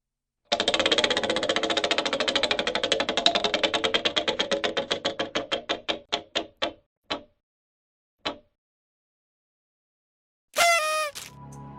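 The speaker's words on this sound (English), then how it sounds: "It's the Final Jeopardy wheel spin to determine one of next week's 5 categories." The Final Jeopardy category wheel spins with rapid clicking that gradually slows into sparse ticks before stopping, followed after a pause by a brief bright electronic flourish.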